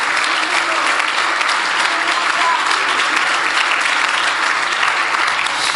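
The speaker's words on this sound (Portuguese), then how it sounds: "Você pode dar um aplauso ao Senhor Jesus por isso?" A church congregation claps together in sustained, dense applause during a worship service, loud and steady with no break and no voices standing out.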